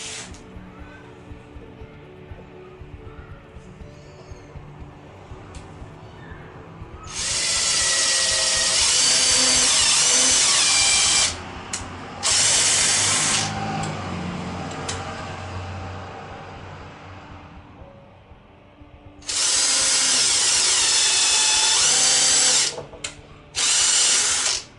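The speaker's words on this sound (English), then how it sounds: "I'm gonna pre-drill the holes." A cordless drill pre-drills holes and drives drywall screws into a homemade trellis in several loud, close bursts of whirring, with two long runs and a few short ones separated by quieter pauses.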